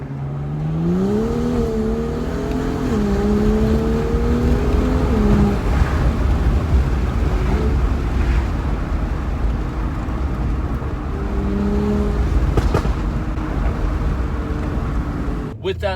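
A BMW 135i with an N55 engine pulls hard, its engine note climbing steadily and loudly, then easing off, with road and wind noise underneath and someone speaking briefly over it.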